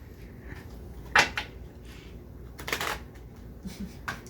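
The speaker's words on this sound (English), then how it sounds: "You're going to shuffle up those cards." A deck of playing cards is shuffled in a few quiet bursts of riffling and flapping, spaced out over a few seconds against a low background hum.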